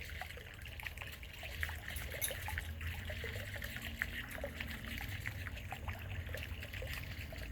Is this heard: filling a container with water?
yes